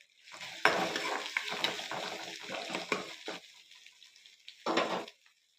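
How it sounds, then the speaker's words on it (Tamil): Sliced big onions frying in oil in a kadai after mustard seeds have popped, with curry leaves going in, a close sizzle broken by bursts of stirring and spatula scrapes, then a brief final stir. "கடுகு பொரிஞ்சதும் வெங்காயம் சேர்த்துக்கலாம்."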